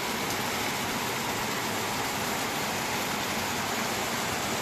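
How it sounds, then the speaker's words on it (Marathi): Sudden heavy monsoon rain seen from a home terrace, a dense, even roar of downpour that stays steady and loud throughout without a break. "चांगला मोठा सुरू झाला पाऊस."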